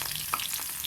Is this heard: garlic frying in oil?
yes